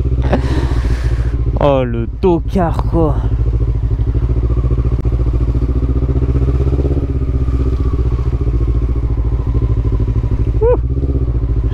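A motorcycle engine runs steadily while lane-splitting through traffic, loud and close throughout with a low constant drone, as someone talks over it.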